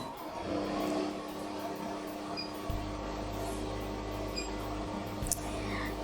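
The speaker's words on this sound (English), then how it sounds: "Okay, we turn on the machine." An alexandrite laser machine powered on and running, giving a steady low hum that steps up into a louder continuous drone partway through, with faint clicks and a brief beep near the end.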